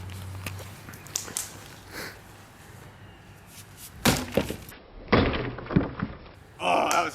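A heavy five-pound Chinese pudao war sword strikes a skull target, giving a few sharp thuds and knocks with impact clatter, mid-distance, amid scattered background sounds.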